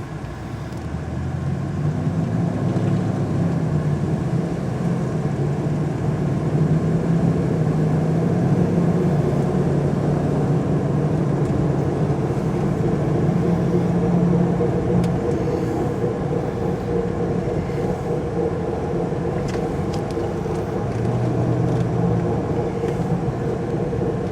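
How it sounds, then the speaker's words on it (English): A 1999 Jeep Grand Cherokee Limited 4x4 cruises along, its engine and road noise forming a steady, even low rumble heard from inside the cabin. "Hopefully I can hold that steady while driving"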